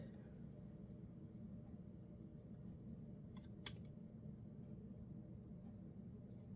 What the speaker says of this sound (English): I'm just fussy cutting out the bottom here of the Eiffel Tower.